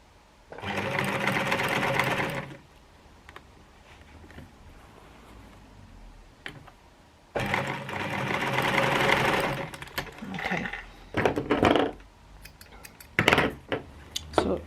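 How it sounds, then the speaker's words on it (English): A sewing machine stitches the edges of a colourful corners quilt together in two long, steady whirring runs, followed by a few short stop-start bursts of stitching up close. "Sew those edges together,"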